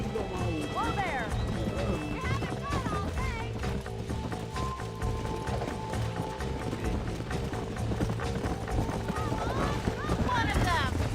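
Horse hooves in Red Dead Redemption, a continuous clip-clop of trotting over game music and ambience, while someone talks throughout.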